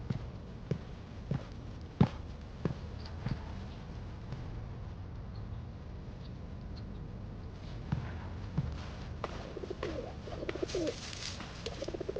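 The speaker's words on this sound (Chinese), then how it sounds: "鸽子大羽松软" Pigeons coo softly in a quiet indoor space, with a low steady cooing, sparse clicks and faint taps, and a brief louder rustle near the end.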